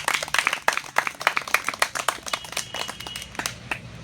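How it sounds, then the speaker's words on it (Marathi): Audience at a Marathi literary conference in Baramati clapping to welcome a guest: a short burst of moderately loud, fairly even applause with many overlapping hand claps, no talking over it. "त्यांचंही आपण टाळ्या वाजवून स्वागत करू."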